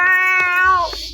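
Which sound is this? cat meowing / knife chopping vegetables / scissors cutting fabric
cat meowing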